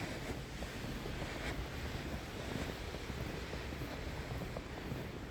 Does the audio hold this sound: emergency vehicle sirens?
no